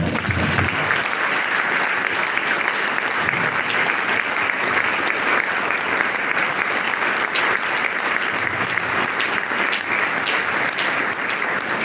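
An audience at a memorial gathering applauding in tribute, a dense, loud and continuous wash of clapping that holds steady for about twelve seconds.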